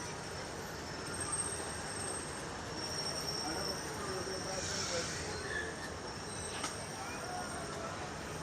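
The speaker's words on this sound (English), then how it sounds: "your next monorail is now on its final approach." A Disneyland monorail approaching the station on its final approach, heard as a faint, steady rolling rumble with a brief high wheel squeal partway through, under the ambient hum of a busy park.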